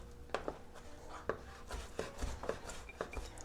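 A knife chops bacon into small cubes on a cutting board, with sharp, irregular thuds that come close together at a steady working pace. Faint kitchen background sits underneath, and nobody speaks.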